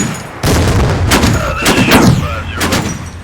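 Artillery fire for effect in the World War II strategy game Combat Mission: Final Blitzkrieg, with heavy booms and a dense rumble following a brief quiet start, loud and close.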